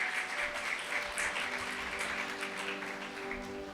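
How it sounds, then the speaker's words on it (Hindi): Church congregation clapping during a Sunday service, a dense continuous patter of many hands heard somewhat distant and steady for several seconds, with a low tonal hum of music underneath. "आए जोरदार तालियां खुदा उनके लिए बजाएं।"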